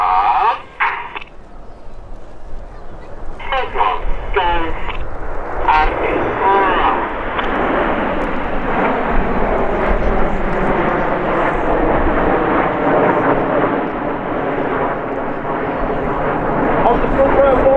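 Red Arrows jets fly a display formation at the Midlands Air Festival, a loud sustained jet roar that builds and holds across the sky while a commentator talks over it.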